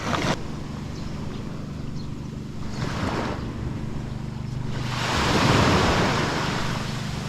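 Sea waves at high tide wash up a beach in Zambales, with a couple of soft breaking surges and a louder rushing swell near the end over steady wind noise on the microphone.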